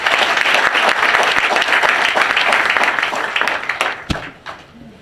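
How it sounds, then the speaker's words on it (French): A crowd of PDCI-RDA party militants in the Lôh-Djiboua region applauds in tribute at a political rally. The clapping is loud and dense, with a few sharp individual claps, then thins and fades toward the end. "Applaudissez-le encore."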